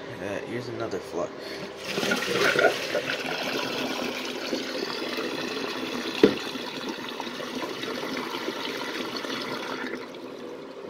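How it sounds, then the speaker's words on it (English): A miniature 1994 Kohler Highcliff toilet gives a full flush, a surge of rushing water that settles into a long draining trickle, with a sharp knock midway and someone speaking over it. "Wow, that's a perfect flush."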